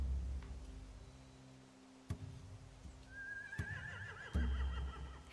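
Horses in The Walking Dead Season 4 video game give a shrill, wavering whinny midway, over a low ambient drone, with a few sharp knocks and thuds scattered before and after.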